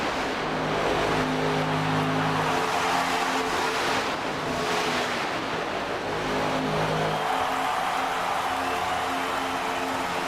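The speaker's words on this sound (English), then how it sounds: "And you see him blipping the throttle, blipping the throttle." A NASCAR Cup Series race car at night racing at Watkins Glen in 2024, its engine droning loud and continuous with rising and falling pitch from repeated throttle blips, other cars roaring nearby.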